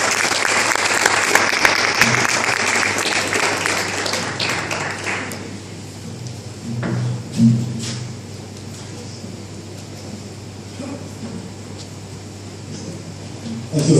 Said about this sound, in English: Please send out a round of applause for the gentleman for our presentation.